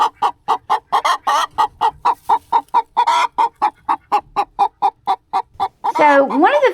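Hens cluck in a rapid, regular series of loud, close calls, about three per second, ending in a longer rising and falling squawk.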